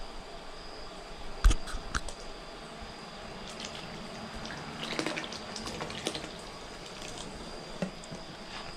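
Water in a sink basin is stirred and splashed during a euro mount cleaning: soft sloshing and dripping with a few sharper knocks and splashes, close and fairly quiet, with no talk.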